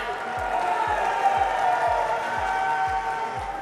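A large arena crowd of esports fans cheering and clapping at a CS:GO grand final, a steady loud roar of voices with a rhythmic thumping underneath.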